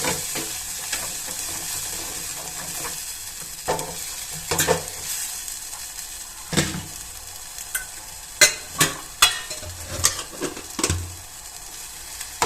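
Masala with ginger garlic paste frying in oil for an eggplant curry, a steady sizzle broken by several sharp spatula scrapes and knocks against the pan, louder toward the end, with no voice.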